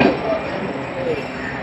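Allama Iqbal Express pulling out of Radha Krishan railway station, a steady broadband rumble of rolling coaches with faint wheel squeals and metallic clinks, continuous and fairly close.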